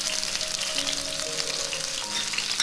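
Onion masala of onion, green chilli, ginger and garlic fries in a pan for navaratna kurma, a dense, even sizzle heard close up with faint tonal hums beneath and no talk.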